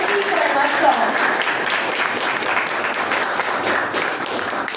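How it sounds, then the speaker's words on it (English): An audience at an education policy lecture gives a round of applause, steady moderate clapping that carries on throughout with a murmur of voices mixed in. "So please give a huge round of applause for Mr. MC Sharma, sir."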